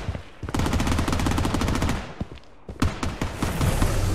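Rapid automatic gunfire in the shooter game Project Bloodstrike, loud close bursts of machine-gun fire filling the first two seconds, a short pause, then another sustained burst with heavy rhythmic cracks.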